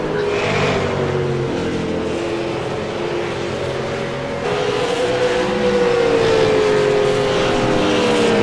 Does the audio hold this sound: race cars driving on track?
yes